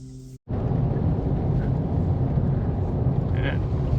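A car towing a big caravan drives along a narrow road, giving a steady, loud rumble of engine and road noise after a brief cut at the start.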